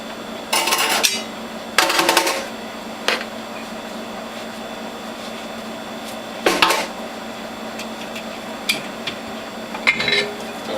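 Juicer grid, grid holder and feed tube being cleaned, giving several separate sharp clatters and clinks of plastic and metal parts knocked together, with quiet pauses between them.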